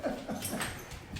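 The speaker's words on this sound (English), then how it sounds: "Those dogs in the background? Those are my puppy dogs." Small pet dogs give a few quick whimpering yelps and light barks in the background of a phone call, faint and intermittent over low room noise.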